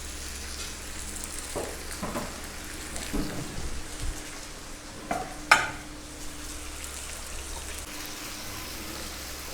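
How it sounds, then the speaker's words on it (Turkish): Meat sautés in oil in a pan for Ali Nazik kebab, giving a steady soft sizzle. A few clattering stirring scrapes land around the middle, and one sharp clink stands out before the frying settles back to an even hiss. "Etimizi böyle güzelce kavuruyoruz."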